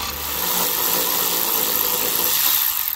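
A wrench works loose a 7/16 bolt on the torsion assembly of a Dometic power RV awning, making a loud, steady whirring grind that runs the whole time before easing slightly near the end.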